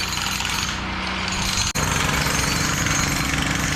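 Pool tile being ripped out with a jackhammer-like power tool during a commercial pool remodel, a steady loud rapid chatter that runs continuously with one brief break.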